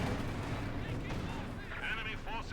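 Distant artillery and gunfire from a Company of Heroes 2 battle rumble under continuous talking, with dull booms and a low, sustained battle din.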